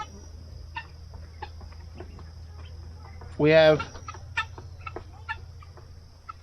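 A hen gives a short burst of loud clucking amid quieter farmyard background noise, with a person speaking briefly.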